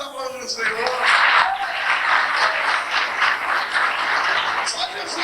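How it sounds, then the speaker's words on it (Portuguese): A church congregation claps together in a dense, sustained burst of applause, loud and close, with voices mixed in underneath. "Vamos aplaudir o Senhor."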